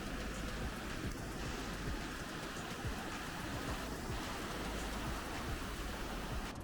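Steady rain falling on surfaces in Tofino, British Columbia, a dense, constant patter of drops throughout, fairly faint and with no voices.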